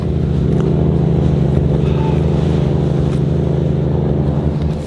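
A boat engine drones loud and steady as it accelerates and throws up a large wake, a continuous low rumble with no break.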